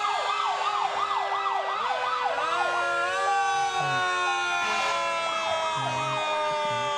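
A Federal Q siren on a Boyer GMC fire pumper during a fire muster parade wails loudly up and down in rapid cycles, then holds a long rising and falling tone, close by and continuous.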